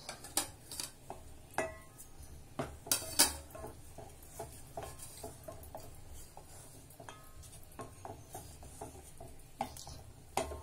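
A ladle scrapes and knocks against a pot as ragi dough is stirred without a lid, giving irregular close metallic clacks and rubbing with quiet gaps between strokes.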